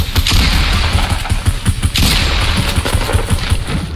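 Rapid bursts of video game gunfire as players shoot at opponents in a battle royale match, loud and dense, with overlapping volleys and crackling shots firing almost continuously.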